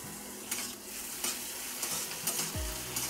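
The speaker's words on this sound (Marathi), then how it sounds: "चांगलं परतून घेऊया।" Onion, garlic and ginger sautéing in a pan, a steady sizzle with repeated scraping strokes of a spatula and a brief clink near the end, close and clear with no speech.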